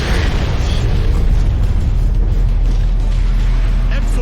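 A spirit bomb explosion attack in the fighting game Granblue Fantasy Versus, heard as a loud, continuous deep rumbling boom with a heavy low-end roar that sustains throughout with little change.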